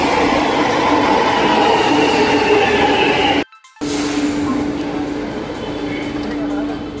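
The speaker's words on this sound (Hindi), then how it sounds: "अभी हम मेट्रो लेंगे यहाँ से।" A Delhi Metro train rumbles and hums steadily at close range, with a brief drop-out midway, while people talk over the noise.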